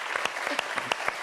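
Short applause on a French TV promo show, a handful of distinct sharp claps spaced out over about a second, close and fairly loud, with no crowd behind them.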